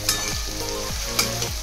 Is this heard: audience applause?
no